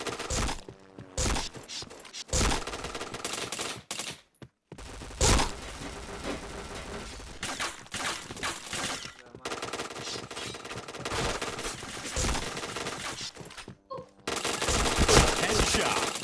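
Gunfire in a shooting video game: rapid machine-gun bursts and single shots come in dense, loud volleys, broken by brief silent gaps. Faint talk may sit underneath.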